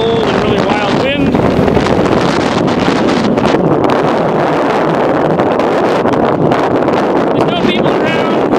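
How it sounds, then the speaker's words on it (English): Strong, cold gusting wind at a lakeshore buffets the microphone with a loud, continuous roar, and faint distant tones pass briefly in the background. "it's a beautiful day, except for that really cold and really wild wind"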